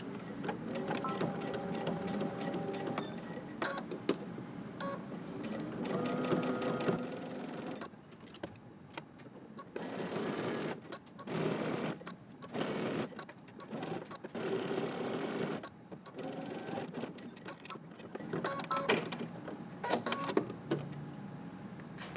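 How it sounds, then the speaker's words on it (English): A sewing machine stitches a V-neckline seam on a Simplicity 8750 top at a 5/8 inch seam allowance. Bursts of steady mechanical whirring run close and fairly loud, stopping and starting several times with short pauses between runs. "now we're going to stitch around using 5/8 of an inch seam allowance"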